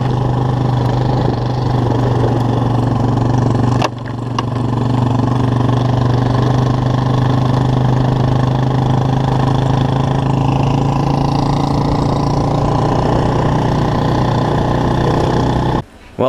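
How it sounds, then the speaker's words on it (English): A motorcycle towing another bike down the road, its engine holding a steady drone throughout with wind and road noise mixed in, fairly loud and close. "So Dustin is tugging me down the road to our buddy Ginter's."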